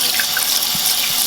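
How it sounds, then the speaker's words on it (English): Cold tap water running into a bowl set under a colander in a kitchen, a steady close splashing and rushing stream with no voices. "put a bowl under your colander and fill that up with some cold water"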